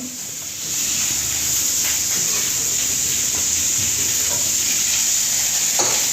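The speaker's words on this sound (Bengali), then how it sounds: "আমার মা কড়ার মধ্যে মাছের মাথাটা তুলে দিয়েছে" A hilsa fish head fries in hot oil in a wok, giving a loud, steady close sizzle and hiss throughout with a few faint clinks of stirring and no voices.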